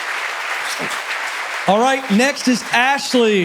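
Live audience applause at The Ramsey Show's live event in Chicago: a dense wash of clapping opens the moment, then quickly fades under a voice talking over it.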